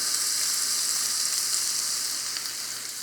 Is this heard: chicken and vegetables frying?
yes